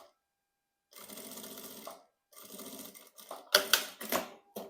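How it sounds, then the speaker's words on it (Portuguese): A sewing machine stitches a zipper onto a fabric panel for a cosmetic bag, running in three short bursts of rapid needle chatter separated by pauses, followed by sharper clacks and handling knocks, close and quiet, without talk. "Aí a gente vai costurando o zíper"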